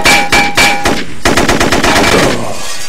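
Rapid bursts of automatic gunfire from weapons in the video game U.S. Most Wanted, loud sharp repeated shots in quick rhythmic volleys with a ringing metallic tone.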